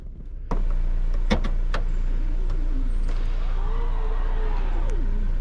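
An electric motor whirs steadily as the power tailgate of a 2018 Volvo XC90 T5 SUV closes itself, with a few clicks and faint background talk.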